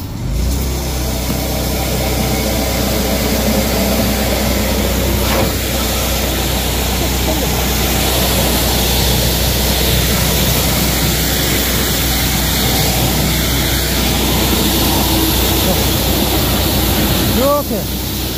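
A 13-horsepower high-pressure washer fitted with a quarter-size nozzle sprays water in a loud, steady roaring hiss that holds unbroken throughout, with a low engine drone underneath.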